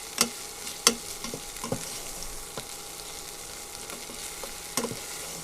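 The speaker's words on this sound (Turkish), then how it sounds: "Şimdi içerisine bir tatlı kaşığı biber salçası ilave ettim ve salçayı bu şekilde kavuracağım." A spoonful of pepper paste fries with garlic in a pan, a soft steady sizzle broken by sharp scraping stir strokes, close and fairly quiet, with no talk.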